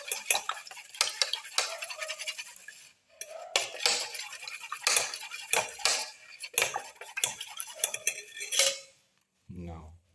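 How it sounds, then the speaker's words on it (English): Eggs whisked in a bowl for a black pepper moringa leaf omelette: quick clinking strokes of a utensil against the bowl come in uneven bursts with short pauses, close and clear. "Mix the eggs."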